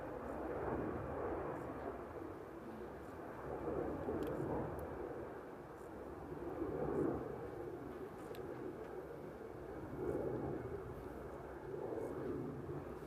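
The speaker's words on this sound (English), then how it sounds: "we're gonna get a 747. So we're gonna get a Queen time, and it's gonna be a loud Queen time as well." A Boeing 747 at Amsterdam Airport produces a steady, distant low engine roar that rises and falls in slow swells, with a faint high whine above it and no voices.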